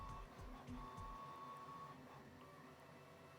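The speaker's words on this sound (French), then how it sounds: "je pense que vous entendez hein, l'imprimante 3D parallèle" A parallel-arm (delta) 3D printer runs with a quiet, steady motor whir and faint mechanical ticks in a room.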